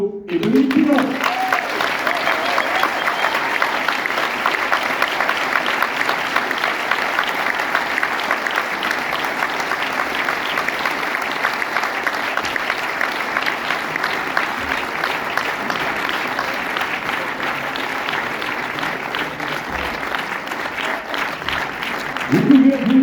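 An audience applauding for a team at an event in Saint-Pierre-et-Miquelon, a dense sustained wash of clapping lasting throughout, with brief speech at the very start and end.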